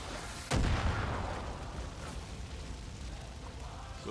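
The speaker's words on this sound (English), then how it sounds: "Oh shit, mortar." A single heavy mortar blast in Far Cry 5 booms close by, followed by a long rumbling decay fading into steady outdoor ambience.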